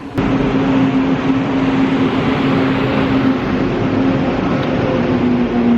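A steady, loud mechanical drone of large grain bin fans running continuously, with a constant low hum and broad airy roar throughout.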